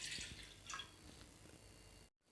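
About one and a half glasses of water poured into a cooking pot make faint splashing and trickling that fades, then stops abruptly at the end.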